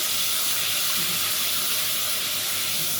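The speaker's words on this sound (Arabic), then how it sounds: "نروح نطفيها بحبة الخل. خلي حبة الخل ايه يغلوا كده مع البصل شوية." Vinegar boils and sizzles with chopped onions in a pan, a loud, steady, broadband hiss like rushing steam that holds constant without breaks.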